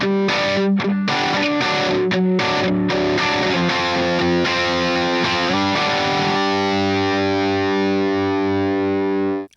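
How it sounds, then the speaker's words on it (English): An electric guitar plays through a cheap Amazon Vintage Overdrive pedal, a Tube Screamer clone, giving a mid-forward crunchy tone: several choppy strummed chords, then a sustained ringing chord that fades at the end, loud and close with no voices. "this was definitely based on a Tube Screamer, and it's got a very similar tone with that mid-forward sound"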